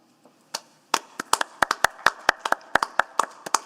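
Sharp, irregular hand claps at a utility committee meeting, a dozen or so, close and unhurried, with no voices.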